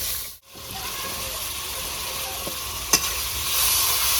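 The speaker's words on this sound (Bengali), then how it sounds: "আমগুলো তো আমার ভাজা হয়ে গেছে।" Raw mango pieces fry in a pan with turmeric, cumin, coriander and red chili powder, making a continuous close sizzle with a brief utensil clink partway through.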